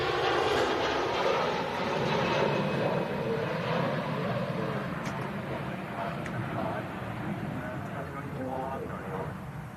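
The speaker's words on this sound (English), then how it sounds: "Virgin Atlantic A330 heading off to somewhere" A Virgin Atlantic Airbus A330 airliner takes off with a broad, steady jet roar, loud at first and easing gradually, while someone talks over it.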